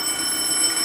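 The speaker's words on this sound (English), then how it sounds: "And then we have alarm signals, which when things go wrong, again some fairly old technology" An old railway signal box alarm for faults on the line rings as a steady, high, continuous electric tone. It is fairly loud and heard alone, with no voices.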